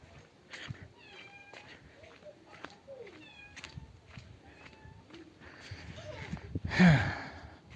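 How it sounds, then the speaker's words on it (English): Several small kitten meows, faint and high, break through outdoor background noise, with a louder cry near the end; a person talks quietly in between. "There's one more kitten, can't leave him out."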